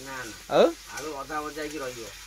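Potatoes sizzle and fry in a pan while cooking in a truck, with a brief louder burst of sizzling; a voice speaks over it throughout.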